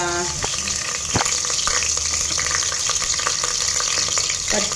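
Ginger garlic paste frying in hot oil for a chicken leg piece biryani, a moderate, steady sizzle with occasional sharp spatters and a few faint clinks of a utensil.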